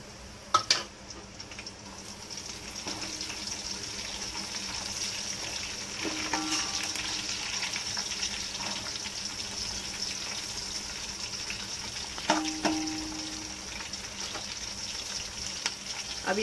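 Chopped green chillies, ten to twelve of them, frying with browned onions in a pan for a soya chunks pulao, a steady low sizzle throughout with a few clinks and stirring scrapes, no talk.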